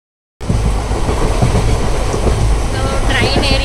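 A passenger train travelling from Chennai to Manali rumbles steadily with a rhythmic clatter of wheels on rails, loud and close, starting abruptly after a moment of silence.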